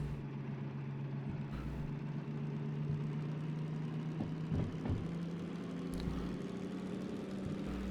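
A heavy diesel locomotive engine in the video game Derail Valley (DM3) drones steadily, its revs swelling and easing back through gear changes with a few faint clunks, and no voices.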